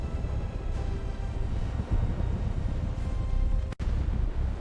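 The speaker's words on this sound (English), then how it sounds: "Massive explosion occurs." Sound effect of a massive asteroid striking Earth's surface and exploding: a loud, dense, low rumbling roar that holds steady for several seconds, broken by one brief dropout near the end.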